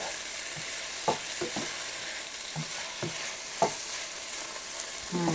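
A baked butternut squash dish being stirred in a hot pan: a steady sizzle with soft, irregular scrapes and knocks of the spoon, close and alone.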